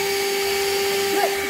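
A vacuum cleaner runs continuously with a steady high whine and motor hum, its pitch briefly wavering near the end.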